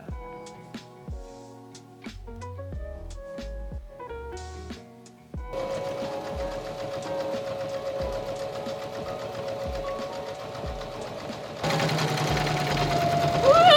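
A sewing machine stitches a vinyl project, starting with a few short, spaced runs of rhythmic clatter. It then settles into steady, continuous stitching that grows louder near the end.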